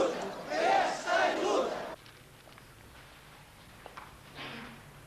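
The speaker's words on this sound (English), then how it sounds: "The crowd chants in response" A crowd chants together at a Portuguese political rally, loud rhythmic massed voices for about two seconds before cutting to a quiet, faint background with a brief swell of distant voices later.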